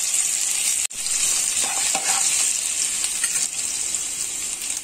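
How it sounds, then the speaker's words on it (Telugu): Finely chopped ginger frying in a couple of teaspoons of hot oil for gongura chicken, a bright, close sizzle with light stirring, briefly cutting out near the start, then steady to the end. "ఆయిల్ వేడెక్కిందండి దీంట్లో కొంచెం సన్నగా తరుక్కున్న జింజర్ వేస్తున్నాను"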